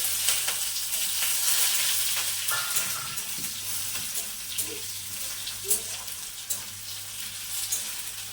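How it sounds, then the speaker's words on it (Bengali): Chopped onions frying in oil for a chicken curry, a steady broadband sizzle with occasional stirring scrapes and soft clinks, close and continuous with no talk. "এবারে যে পেঁয়াজটা কুচিয়ে রেখেছিলাম সেটা দিয়ে দেবো"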